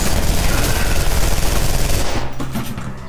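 Rapid automatic gunfire from the first-person shooter F.E.A.R. 3, a loud continuous stream of shots for about two seconds that then thins into scattered bursts and echoing tails.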